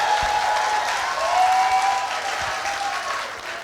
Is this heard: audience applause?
yes